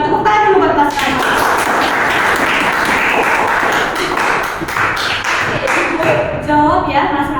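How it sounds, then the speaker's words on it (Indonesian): Students clap for a classmate in a classroom, a dense, steady patter of many hands across the whole span, with voices and chatter mixed in underneath. "Tepuk tangan dulu buat Mas Rama"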